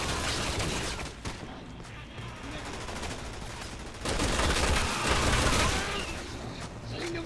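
Gunfire in the video game Resident Evil 6 during co-op play, with enemies shooting from above: rapid, overlapping shots and bursts run throughout, loud and dense, under a player's occasional talk.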